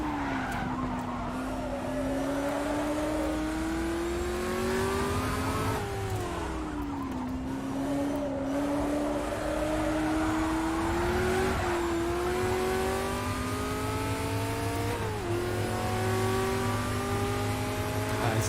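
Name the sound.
race car engine in video game Automobilista, Ford vs Ferrari mod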